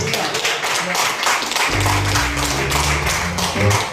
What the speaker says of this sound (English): Y'all give George a nice round of applause.